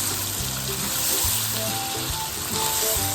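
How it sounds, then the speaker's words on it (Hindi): Pulao mixture of boneless chicken, mixed vegetables, crushed black pepper and chopped coriander frying in a pan, giving a steady, close sizzle with occasional stirring scrapes throughout. "बस इसको 1 मिनट के लिए हमने फ्राई करना है"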